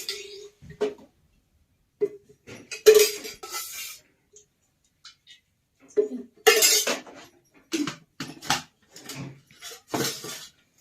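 A metal kadai is set down for cooking palak and is handled with oil and cumin nearby. Scattered, close metallic clanks and clinks come in short bursts, with quiet gaps between them.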